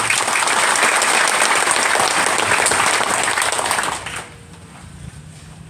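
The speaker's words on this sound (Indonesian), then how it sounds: "Tepuk tangan." Audience applause in a hall at a university orientation for new students, loud sustained clapping from a large crowd that carries for about four seconds and then drops off to quiet room noise.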